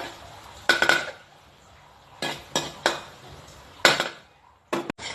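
Fermented soybean paste is stir-fried over medium heat. A metal spatula scrapes and clanks against the pan in several loud, separate strokes over a faint sizzle, with short quiet gaps between them. Nobody speaks.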